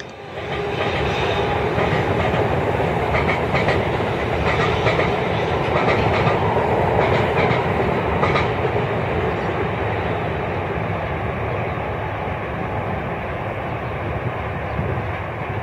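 An NJ Transit ALP-46A electric locomotive pulling multi-level coaches on the North Jersey Coast Line rumbles past close by at Woodbridge, New Jersey, with steady wheel clatter and a loud, sustained mechanical roar that never lets up.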